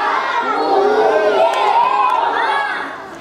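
Children in a crowd shout together at a family parade, a loud, sustained mass of young voices yelling at once for a few seconds before fading slightly at the end.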